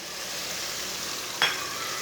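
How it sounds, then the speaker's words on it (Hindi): Steady sizzling of spices frying in a hot pan for chana pulao, with one brief clink of a utensil partway through. "1 मिनट तक मैंने भून लिया मसालों को।"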